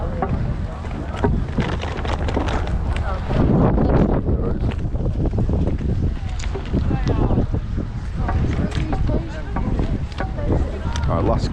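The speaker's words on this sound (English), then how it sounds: "It's so windy today, isn't it?" Gusty wind buffets the microphone in a continuous low roar at an outdoor car boot sale, with muffled voices faintly underneath.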